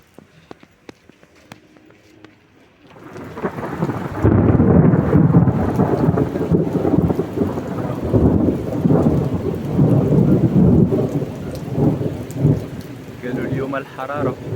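Heavy rain pours down in a Moroccan street at night as rolling thunder rumbles, starting after a quiet opening and then staying loud and dense with a steady downpour throughout.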